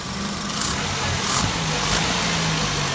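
A 1994 Saturn engine with a faulty throttle position sensor surges and revs by itself in a few uneven swells over a steady mid-pitched running hum, close by, with no voices.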